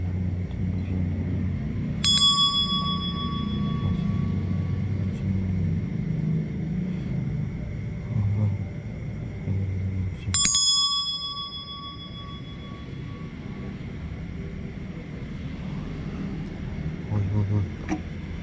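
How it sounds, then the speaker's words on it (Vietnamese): Two bright bell strikes ring out several seconds apart, each leaving a shimmering metallic decay, over a steady low rumble of outdoor background noise in a rural field setting. "Chuông bên kia nó đã reo rồi kìa."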